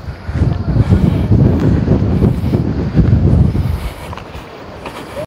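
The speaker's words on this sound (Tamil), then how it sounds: "காற்று தான் சூப்பராக இருக்கு." Strong wind buffets the microphone at a hilltop viewpoint in Riverston, Sri Lanka, a loud continuous roaring rush that eases slightly near the end, with no voices.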